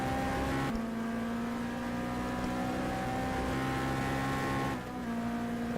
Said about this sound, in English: Everything seems to be fine with the engine there.